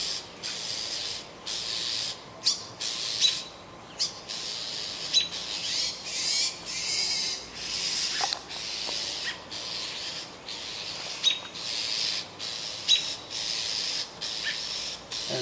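A bird gives shrill, harsh calls near a window, brief bursts repeating irregularly over a soft, scratchy rustling background.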